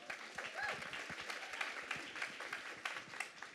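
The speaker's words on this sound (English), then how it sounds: "You can give her a round of applause." Scattered applause from a small audience at a women-in-the-workforce panel greets a panelist, light and uneven, with faint murmuring voices underneath.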